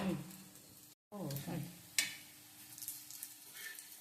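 Banana slices frying in a pan for crispy chips, a close steady sizzle with stirring scrapes and a brief clatter, low and continuous except for a momentary break.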